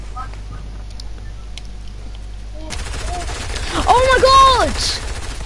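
Rapid bursts of gunfire ring out in a video game, starting abruptly and continuing as dense, loud automatic fire while a voice cries out over it.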